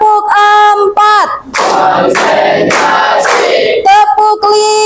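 A classroom of schoolchildren clapping together in a counting ice-breaking game, loud and dense bursts of claps between stretches of chanting voices.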